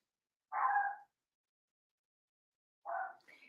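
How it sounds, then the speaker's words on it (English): Two short barks from a dog outdoors before dawn, separated by a long silence, the second followed by fainter yelping; moderately distant and otherwise quiet. "Do you hear the dogs?"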